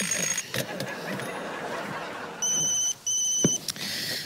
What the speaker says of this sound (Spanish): Pero si ya para el despertador